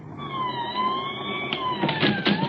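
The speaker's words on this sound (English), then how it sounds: "The police cars were drawing up before 3742 Waverly Court as I arrived." A wailing police siren rises and falls close by, with a second siren tone layered in and some traffic noise underneath.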